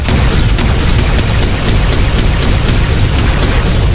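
A fully charged gun fires in Minecraft, giving a loud, dense blast that booms and rumbles without a break, like a sustained explosion filling the whole moment, with no voices over it.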